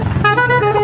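A short, musical telolet-style horn on a motorcycle, its layered tones ringing out loud and close for under a second.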